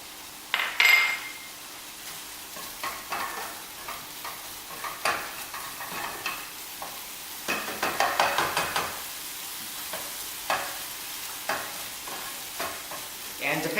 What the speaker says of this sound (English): you want to add your bacon in. And so with the bacon, just you want to cook this off until it gets very crispy.